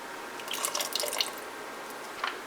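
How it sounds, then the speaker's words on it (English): Lemon juice or vinegar is poured into milk to make ricotta, heard as a light, close trickle and dripping of liquid, brief and unbroken by talk. "You're going to pour it straight in."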